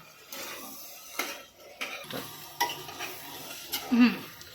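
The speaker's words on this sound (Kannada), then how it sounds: "ಇವಾಗ ಒಂದು 2 ನಿಮಿಷ ಅದು ಗ್ರೇವಿನೂ ಕೂಡ ಎಣ್ಣೆ ಒಳಗೆ ಫ್ರೈ ಆಯ್ತು" Gravy frying in oil in a pan, with sizzling under repeated scraping strokes of a spoon against the pan and a few sharp metallic clinks, close and uneven.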